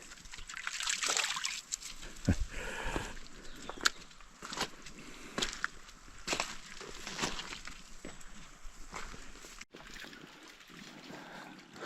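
Mountain river flowing beside a shaded forest path in high mountains in summer, with a soft continuous trickle and babble under scattered footsteps and rustling. No one speaks.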